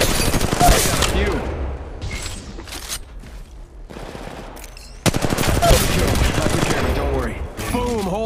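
Rapid automatic gunfire in the Apex Legends mobile game, loud dense bursts of shots with brief pauses between volleys and game effect sounds layered over them.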